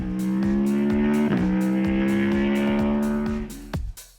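A 2015 Aprilia Tuono motorcycle engine revs loud and close, a rich throbbing roar that climbs and holds, dips briefly, rises again, then drops away into sharp crackles as the throttle closes.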